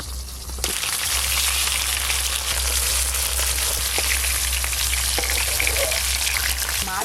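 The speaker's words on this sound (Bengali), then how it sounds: "মাছ ভাজা হচ্ছে" Pieces of catla fish frying in hot oil in a home kitchen, giving a steady, close, crackling sizzle with occasional pops and no talking.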